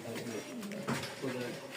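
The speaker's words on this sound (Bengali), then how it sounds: "এই এক জোড়া কবুতর টামলা" A pair of Turkish tumbler pigeons coo close by, giving low, soft, repeated throaty calls in a steady stream over a faint background hum.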